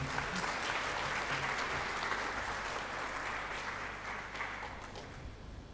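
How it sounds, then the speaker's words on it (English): Audience applause at an international convention for English teachers, a dense, even burst of many hands clapping that holds steady and tapers slightly toward the end, heard alone without talk. "let's give her a big applause"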